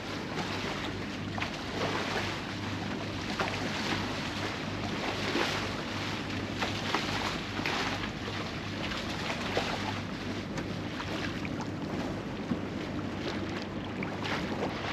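A catamaran motors across open sea near Antigua with its sails down, a continuous low engine drone and hum running under wind buffeting the microphone and the rush of water, steady throughout with no voices.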